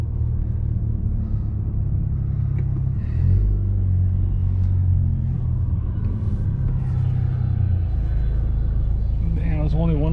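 A 2021 Honda Accord Sport 2.0T with a stage 3 tune pulls away from a parking lot, its low engine rumble steady and close from inside the cabin, while people talk over it.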